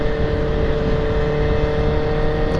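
A superbike cruising at about 93 km/h on a highway produces a loud, unbroken engine drone mixed with wind rush, steady throughout with no pauses.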